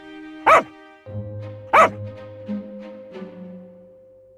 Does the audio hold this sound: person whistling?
no